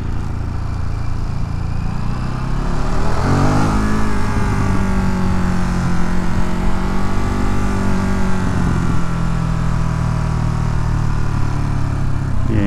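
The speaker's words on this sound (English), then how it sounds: "Yeah, traffic is silly." Manhattan street traffic heard while riding from Manhattan to Brooklyn: a steady, loud engine drone with car and motorbike revving that rises and falls in pitch, continuous throughout.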